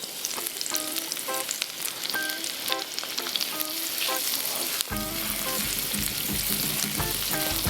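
Crushed garlic sizzles steadily in melted butter in a pan, a continuous close frying hiss with scattered crackles and a few clinks of a utensil, growing denser and louder halfway through.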